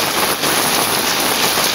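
Heavy monsoon rain in a Konkan village yard, a dense steady hiss of downpour drumming on surfaces, loud and close with no voices.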